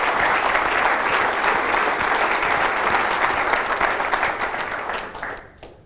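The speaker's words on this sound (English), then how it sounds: "And please give them one more round of applause for doing a great job." Audience at a 2013 State of the City address applauding the City Council, a full, steady round of clapping that gradually thins and fades out at the end.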